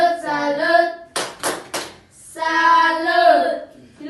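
Pupils in a primary-school classroom give a "tepuk salut" clap: three sharp, loud handclaps in quick succession, set between stretches of group voices chanting together.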